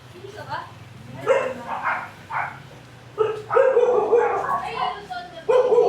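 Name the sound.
dogs barking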